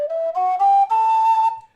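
A tin whistle plays a short rising run of three or four clear, pure notes, close and alone, lasting under two seconds.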